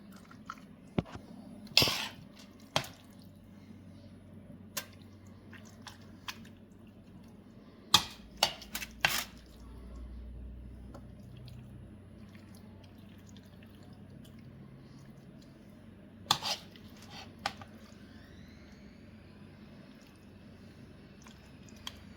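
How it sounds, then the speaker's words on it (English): Jambalaya stuffing with crawfish being pushed by hand into the cavity of a whole chicken, soft wet squishes and faint squelches scattered among sharper handling clicks in a quiet setting. "Try to get as much of this stuffing into the cavity of the bird as we can."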